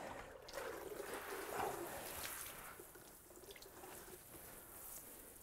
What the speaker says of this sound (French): nous allons effectuer un léger arrosage